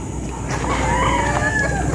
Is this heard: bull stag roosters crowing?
yes